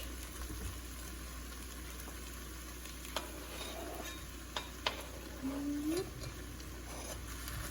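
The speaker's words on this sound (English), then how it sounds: "So I'm gonna go ahead and add in the sausage." Sausage goes into softened vegetables in a pot for jambalaya, bringing a low continuous sizzle with a few sharp spoon knocks and scrapes as it is stirred, no talk.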